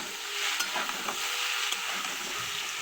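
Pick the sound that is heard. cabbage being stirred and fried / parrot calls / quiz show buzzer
cabbage being stirred and fried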